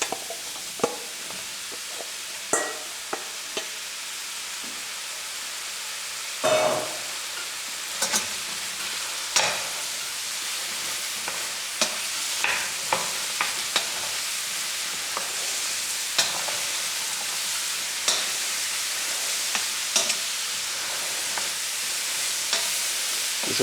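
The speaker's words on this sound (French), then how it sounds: "Et maintenant, je vais y faire cuire mes champignons." Mushrooms fry in a little olive oil in a saucepan, a steady sizzle throughout with occasional sharp crackles and stirring clinks, close up and with no voices.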